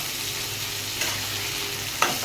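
Potatoes and poppy seed paste are stirred in a pan, giving a steady close sizzle with a couple of soft scraping utensil sounds and a small clink near the end, no speech.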